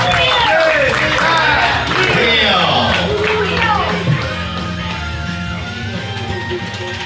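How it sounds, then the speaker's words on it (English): Audience at a live storytelling game show cheers and claps in a dense, loud burst with shouts and whoops, the crowd noise filling the room and tapering slightly toward the end while voices carry through it. "let's give them a big round of applause"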